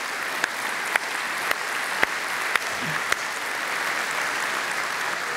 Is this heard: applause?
yes